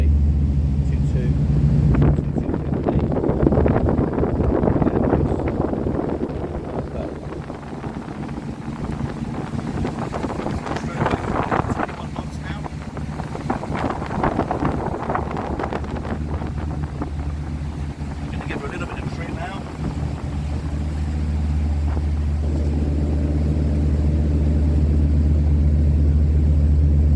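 Windy 32 Grand Tornado motor boat cruising on the plane at about 2,250 rpm, a steady loud engine drone with rushing water and wind buffeting, with someone talking over it.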